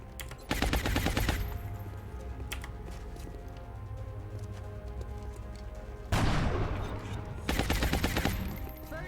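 Automatic gunfire in the turn-based strategy game XCOM: Long War, two sharp rapid bursts separated by several seconds of steady low ambient hum, loud and close.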